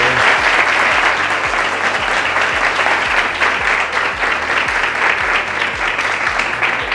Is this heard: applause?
yes